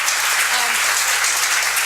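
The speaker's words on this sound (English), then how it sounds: "Let's give a big round of applause to our panelists and our moderator" Dense, steady applause from a conference audience for the panelists and moderator, loud and continuous throughout with no break.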